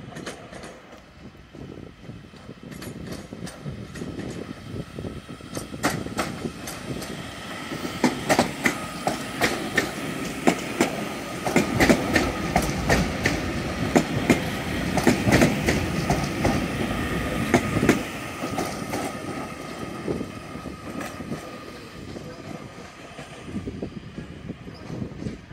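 A class 331 electric multiple unit, number 331030, departs Manchester Piccadilly for Alderley Edge, its wheels clicking rhythmically over rail joints as the rumble builds to a steady roar, then eases as it pulls away.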